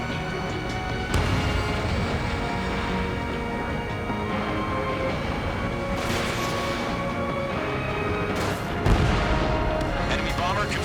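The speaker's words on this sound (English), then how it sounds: "Mage 2, missile away." Missile launch and explosion in the Ace Combat 7 flight combat game, with booming blasts and heavy rumbling over a continuous dense soundtrack, plus louder impacts around the middle and near the end.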